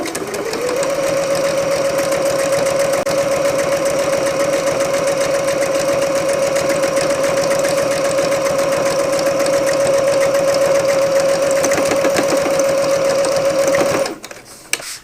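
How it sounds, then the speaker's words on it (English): Sewing machine stitching across the top of a faux leather wallet, one long loud continuous run of fast rhythmic needle whirring with a steady hum, stopping abruptly near the end. "go ahead and stitch all the way across the top"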